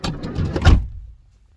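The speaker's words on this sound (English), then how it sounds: "Let's get the door shut." A camper van door thuds shut partway through after a short stretch of movement and rustle, followed by near silence inside the van.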